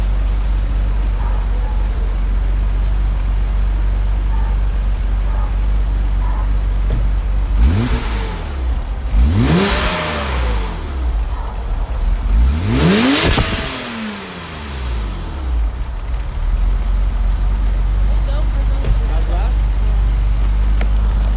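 A BMW M5 with an S38 engine idles with a steady low drone, then revs sharply twice, each rev rising and falling, loud and close before settling back to idle.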